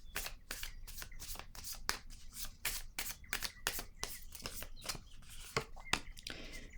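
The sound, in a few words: tarot card being placed on the table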